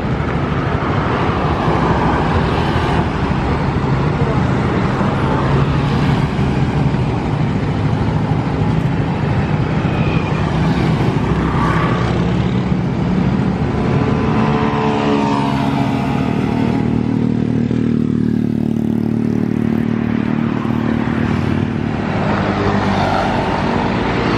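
Traffic passes a vehicle checkpoint on the Mataram ring road at the city entrance, where every vehicle coming in is stopped and checked: cars and motorbikes rumble past in a continuous, fairly loud flow with engines swelling and fading.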